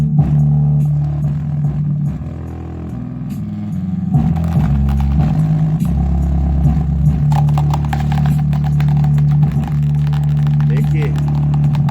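A 12-inch subwoofer under test pumps out heavy, booming low bass in shifting tones, loud and close, while someone talks over it almost throughout.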